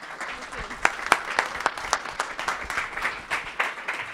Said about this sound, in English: Give a warm applause for Pauline.